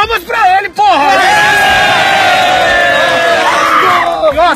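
Studio audience at a Bolivian talk show bursting into loud cheering, whoops and shouts, a dense roar of voices that swells after a brief pause and holds strong to the end.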